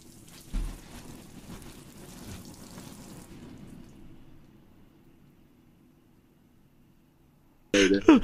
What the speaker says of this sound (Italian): Alex, accendi pioggia.